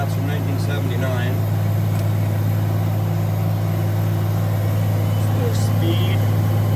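A 1979 Case 2870 tractor heard from inside the cab while seeding: a steady, loud low engine drone with a constant hum that carries on evenly throughout.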